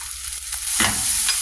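Fried rice with carrot, onion and green peas sizzles in a pan as it is stirred, a close, loud frying hiss with a scraping stir partway through.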